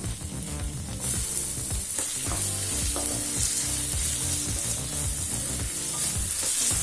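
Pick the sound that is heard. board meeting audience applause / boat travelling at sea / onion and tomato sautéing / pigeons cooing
onion and tomato sautéing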